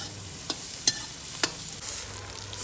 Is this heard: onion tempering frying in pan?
yes